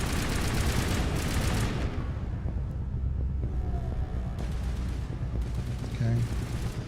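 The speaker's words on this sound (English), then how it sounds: "Snipers be sniping." Sniper gunfire in the Mass Effect video game opens with a dense burst of loud shots, then thins to scattered, fainter reports.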